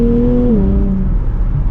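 A 2024 Nissan Z Nismo driving with a gear shift, its engine note held steady then dropping in pitch as it shifts, loud and close from inside the car.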